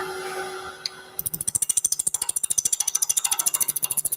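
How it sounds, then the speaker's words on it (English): A lathe turns epoxy against a negative rake chisel, giving a fast, loud, regular rhythmic chatter of cutting pulses after a brief quieter start. "our cut is happening a little more slowly than it would if I had a conventional chisel, but that's okay, because it's given me great cut quality in the epoxy"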